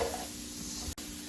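Carrots with soy sauce stir-frying in a pan for Mauritian-style chicken chow mein, a close steady sizzle with a brief scrape of stirring and a sudden short dropout near the end.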